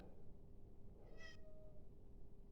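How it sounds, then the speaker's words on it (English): A house cat gives one faint, short meow somewhere in a quiet room with a steady low hum in the background. The call is brief and distant, and no one is talking. "That meow, by the way, is my cat."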